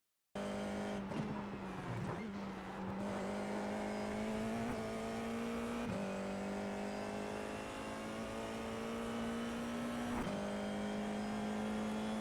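An FIA F4 race car at Oulton Park accelerates with a loud, steady engine whine that climbs gradually in pitch, broken by brief dips at gear changes, and no one speaks.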